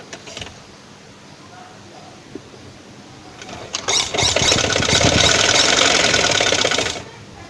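Sewing machine running a straight line of stitching through fabric, quiet handling at first, then a loud steady whirring burr for about three seconds that stops abruptly.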